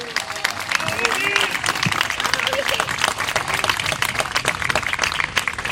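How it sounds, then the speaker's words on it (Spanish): Audience at a political gathering in San Martín applauding, a sustained wash of dense clapping that carries steadily throughout, with faint voices calling out amid the applause. "le vamos a renovar el aplauso"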